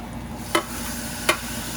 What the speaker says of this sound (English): Now that the ginger garlic paste is well cooked, we're gonna add in the tomatoes.